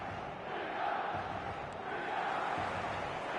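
Steady, dense stadium crowd roar from the FC 27 video game, a continuous wash of massed voices at an even, fairly loud level with no clear peaks or breaks.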